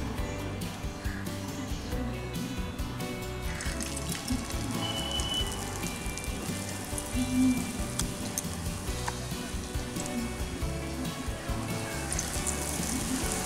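Malabar spinach leaves coated in gram flour batter deep-frying in refined oil over a medium flame give off a dense, steady crackling sizzle that runs unbroken throughout, with no voices.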